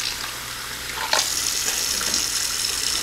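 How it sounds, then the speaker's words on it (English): Tap water pours over beans, a close, hissing stream that grows fuller after a brief splash partway through and then runs on steadily. "you pour water in them"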